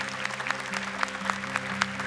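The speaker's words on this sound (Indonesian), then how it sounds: "tepuk tangan untuk Dewan Juri atas komentar dan keilmuannya" Studio audience on the Hafiz Indonesia 2019 television show applauds the jury panel; brief, lively clapping with a few crisp claps standing out over a sustained musical tone.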